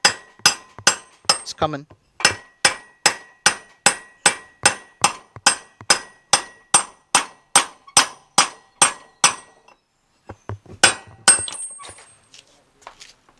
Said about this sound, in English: I'm just going to put it along the rim here and just tap